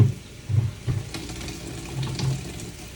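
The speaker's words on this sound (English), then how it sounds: "I'm going to wash my hands" Running water splashes steadily from a kitchen tap while hands are washed at the sink, a continuous mid-level wash with a few louder bursts.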